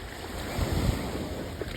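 Gentle ocean waves wash in a calm little beach cove at Playa del Carmen, a continuous broadband rush of surf and wind heard up close, with no one speaking.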